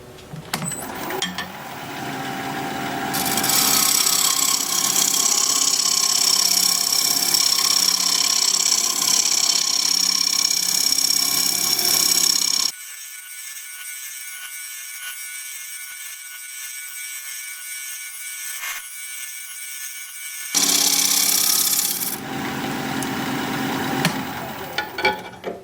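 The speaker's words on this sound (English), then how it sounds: "I'm going to switch to this Easy Wood Tools number 2 gooseneck hollower and just come under that rim, maybe go down a little ways." An Easy Wood Tools number 2 gooseneck hollower cuts under the rim of a wooden bowl spinning on a lathe. Two bursts of harsh, hissing scraping, a long one and then a short one, sit over a steady motor hum.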